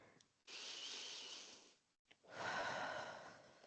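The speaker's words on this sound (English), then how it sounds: "Deep breath." Two deep, slow breaths during a power yoga session, each a long, close airy inhale or exhale separated by a brief pause, alone and quiet.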